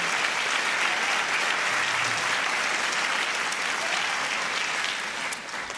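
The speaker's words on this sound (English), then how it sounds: "Please help me with a final round of applause as we congratulate all our honorees for this evening." An audience at a Teacher of the Year celebration gives a final round of applause for the evening's honorees. The loud, dense clapping holds steady for several seconds, then thins slightly at the end.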